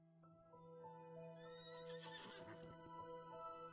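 A horse in the Perfect World Mobile video game gives a long, clear whinny with soft hoof clip-clops, set against a quiet sustained musical backdrop.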